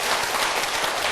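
An audience applauds a man honoured for 33 years of military service, a dense steady wash of clapping throughout with no voices on top.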